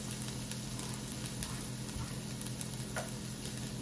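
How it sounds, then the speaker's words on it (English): Half a small onion, diced, sweating in melted butter in a pan for rice pilaf, giving a soft, steady sizzle and gentle crackle close by, with a low background hum and no talking. "So just sweat the onions."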